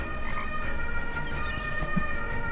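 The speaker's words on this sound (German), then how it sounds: "ich hoffe, ihr hört jetzt nicht den Krankenwagen." An ambulance siren wails at moderate distance as a steady, continuous tone under a low background hum, with no talking.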